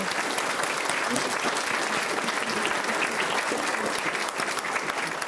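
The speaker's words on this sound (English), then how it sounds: "I'd like to give a big round of applause" A large audience applauds steadily, a dense wash of clapping that stays loud and unbroken throughout.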